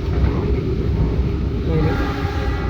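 A Commuter Line train runs at speed, a loud, steady rumble of wheels and carriage noise that continues unbroken and fills the space without any voices.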